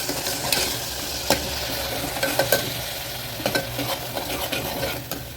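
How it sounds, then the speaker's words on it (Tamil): Turmeric and garam masala sautéing in a pan for tomato rice, a dense close sizzle punctuated by repeated sharp scrapes and taps of a spatula stirring against the metal. "மஞ்சள் மஞ்சத்தூள் கரம் மசாலா இதையும் நல்லா வதக்கி விட்டுருங்க கொஞ்சம் நேரம் அப்படியே வதங்கட்டும்"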